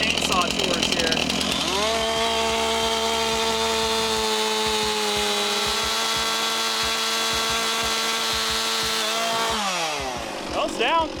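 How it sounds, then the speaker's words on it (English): A chainsaw runs loud and close at high revs through an Osage orange log being cut for bow staves, holding a steady whine for nearly the whole stretch before dropping off near the end. "it's guided chainsaw tours here"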